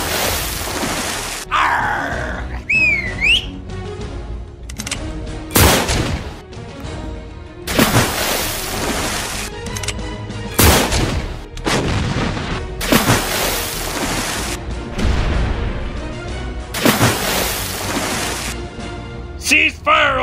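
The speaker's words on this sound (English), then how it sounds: "Fire in the hole! Incoming! Return fire!" Cannon fire from a toy pirate ship battle, a series of loud broadband booms and crashes spaced through the scene, with voices shouting and playing around them.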